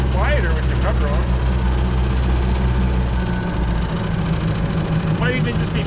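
A 3.0 inline four boat engine in a 1989 Raven runs at idle with a rod knock, a loud, steady, close-up mechanical drone with a rapid repetitive tapping in it, and voices speaking over it.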